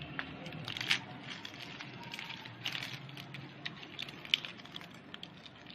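Crisp crunching and crackling as a fried chicken spaghetti roll is broken apart, with scattered sharp snaps over a low background rumble; no talking.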